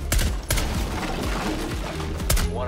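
Gunfire from the tactical shooter Rainbow Six Siege, several loud sharp shots ringing out over a dense, noisy game mix, with a pair of prominent bursts near the start and another toward the end.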